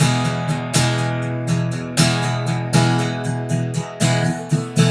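An acoustic guitar strummed briskly in a lively, accented rhythm, with sharp chord strokes landing off the beat, played solo and close.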